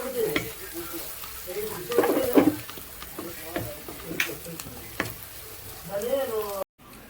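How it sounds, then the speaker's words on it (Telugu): Frying in a pan with turmeric being mixed in, a crackling sizzle under repeated scraping stirs of a spoon, loud and close, with a short cut near the end. "కొంచెం ఫ్రై అయిన తర్వాత పసుపు అలాగే రుచికి సరిపడా వేసుకొని నీట్గా మిక్స్ చేసేసుకోండి"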